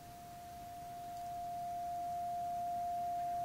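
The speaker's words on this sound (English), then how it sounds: "I've set up a 700 hertz sine wave going into the clean channel of the amp, and no reverb." A 700 Hz sine wave runs into the clean channel of a Bugera V22 guitar amp with no reverb, a pure steady tone that grows gradually louder as the level rises.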